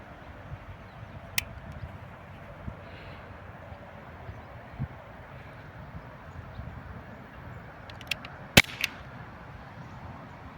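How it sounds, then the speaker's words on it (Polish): A single sharp crack from a cheap CO2 pistol shot at a winter jacket from 3 metres stands out near the end over a quiet, steady background hum, with a few faint ticks before it. "Pierwszy strzał oddamy na dystansie 3 metrów."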